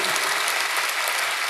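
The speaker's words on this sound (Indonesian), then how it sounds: "Yuk tepuk tangan buat Tuhan kita." Church congregation at a Bethany church service breaks into applause, steady dense clapping throughout the short clip, moderately loud with no voices clearly heard.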